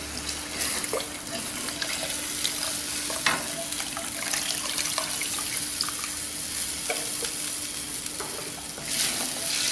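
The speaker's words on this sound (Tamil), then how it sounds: "கொஞ்சம் நல்லா கொதிக்கட்டும்." A pot of fish curry with tamarind water bubbles and simmers steadily, a continuous wet crackle with small pops and stirring clinks throughout, close and fairly loud.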